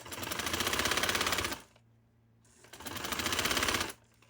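A sewing machine stitches fabric for a neckline design in two loud, rapid bursts of about a second and a half each, separated by a short quiet pause, close and alone without talk.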